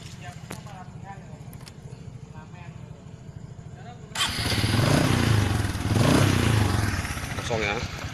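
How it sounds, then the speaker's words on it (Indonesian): A Honda Supra motorcycle engine fitted with a bus-style exhaust idles with a steady rumble, then revs up loudly and holds a rough, throaty roar that rises and falls before easing. "Kita coba dulu apakah bisa suaranya seperti apa di motor Supra ini"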